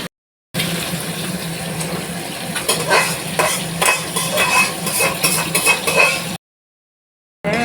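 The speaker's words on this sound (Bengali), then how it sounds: "এখন দেখো লাল করে হাঁসের ডিমটাকে ভেজে নেব" A duck egg fries in hot oil for an egg curry, making a loud, continuous close sizzle with spatter, broken by clinks of a spatula against the pan, with silence briefly before and after.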